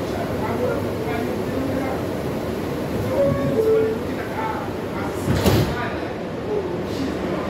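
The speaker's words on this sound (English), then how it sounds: "Stand clear of the closing doors" On an R160 A train in the New York City subway, the doors slide shut with a clunk partway through, amid a steady rolling rumble and hum inside the car while a recorded voice announces over the speakers.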